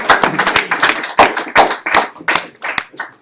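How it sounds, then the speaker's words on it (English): A short burst of hand clapping from a small group at a lecture, close by, uneven and lively, fading out after a few seconds. "Let's give ourselves a hand of applause."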